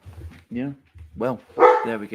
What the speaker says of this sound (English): That's my dog getting very excited.